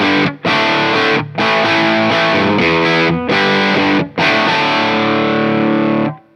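Electric guitar through a Nobels ODR-1 overdrive pedal, loud distorted chords ringing in several sustained bursts separated by brief gaps, thick and bass-heavy, with no voices.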